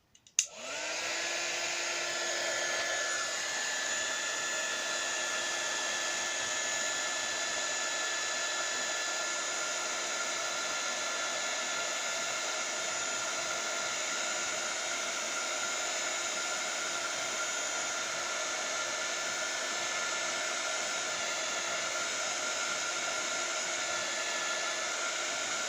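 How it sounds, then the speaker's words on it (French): A heat gun blows hot air onto a handmade greeting card, a loud steady whoosh starting abruptly and holding constant for the whole stretch with no talking. "le heat gun"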